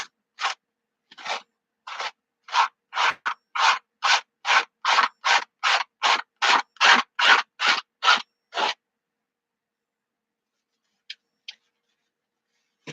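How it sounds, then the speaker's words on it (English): Oil paint being scraped off an abstract painting, a run of about eighteen evenly spaced rasping strokes over roughly nine seconds, then a pause and two faint isolated scrapes near the end. "So scrape it and start over."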